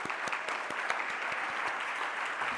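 Audience at an awards ceremony applauding, a steady, fairly faint patter of many hands clapping from a medium distance, with no other sounds.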